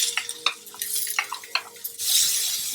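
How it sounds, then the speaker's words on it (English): Cooked beetroot tipped into a pan of lightly caramelized, mostly translucent shallots, with scattered stirring clinks and scrapes, then a steady, louder sizzle rising as the beetroot hits the hot pan. "Now to this, what we do is we add the beetroot"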